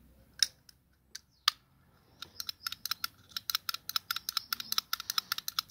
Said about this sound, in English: It clicks a lot more now.